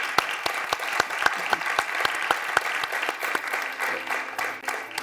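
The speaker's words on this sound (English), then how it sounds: "I would like to ask a round of applause for our panelists." Applause for panelists at a conference session, a moderate crowd clapping with a few sharp, distinct claps standing out near the start, then a looser, thinning patter with faint murmuring toward the end.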